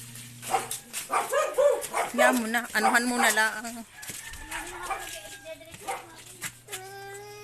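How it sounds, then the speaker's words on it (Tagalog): A dog barks and whimpers in short, high, yelping bursts close by, mixed in with people talking nearby. "Ay, ang aso naman."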